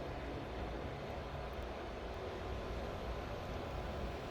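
Jet aircraft taxi before takeoff in the video game Ace Combat 7, a constant low engine rumble and hiss, steady and unbroken, with no voices.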